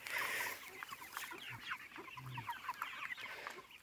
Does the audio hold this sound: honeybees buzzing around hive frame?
no